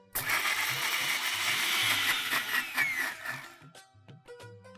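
A kitchen mixer grinder whirs loudly as it grinds fresh bread crumbs with sugar, a dense continuous roar for several seconds that then cuts off, leaving a few clattering knocks as the motor winds down.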